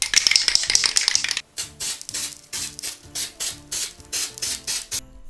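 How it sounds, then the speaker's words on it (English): Snow spray can rattled hard at first, then released in a run of about nine short hissing bursts with brief gaps, close and fairly loud, during a small Christmas wreath craft. "Back in with the snow spray."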